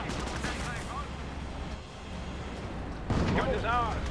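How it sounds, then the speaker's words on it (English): Mortar and artillery fire in Company of Heroes rumbles as a dense wash of low blasts, easing midway and then bursting back louder near the end, with a voice heard alongside. "A bit of artillery raining on in."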